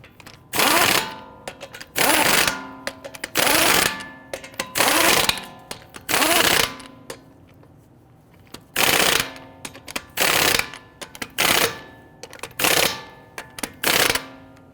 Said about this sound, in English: We want to go ahead and get all of our lug nuts started by hand, and then we'll snug them down.